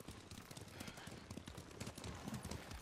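Horse hooves clop steadily in the video game Ghost of Tsushima, a dense continuous run of hoofbeats over a low outdoor ambience with faint voices.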